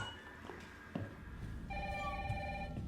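A telephone rings in Resident Evil 3 with a bright trilling tone that starts partway through, faint and somewhat distant, after a few soft thumps.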